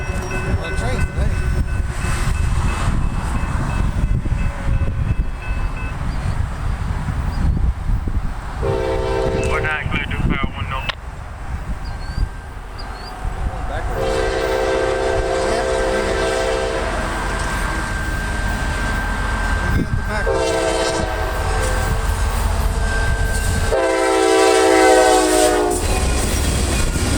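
Norfolk Southern local freight train P49, led by locomotive 7125, rumbles past at Harrisburg, North Carolina, loud and close with wheel clatter, sounding several long horn blasts, while people talk over the steady roar.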